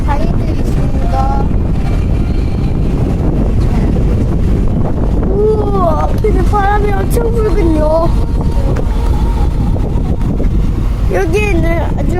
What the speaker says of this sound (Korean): 제트보트 있다